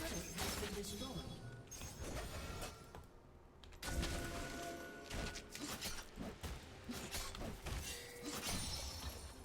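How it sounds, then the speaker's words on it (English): A turret being destroyed in League of Legends, with loud crashing and shattering bursts amid busy game effects while a voice talks over it. "Your turret has been destroyed."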